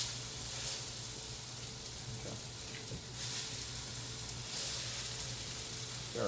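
Ribeye pork chop sizzling in a sauté pan, a faint, steady crackling hiss with occasional small pops and clinks as the meat is moved around, no talking.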